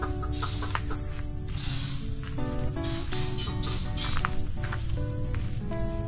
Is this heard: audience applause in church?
no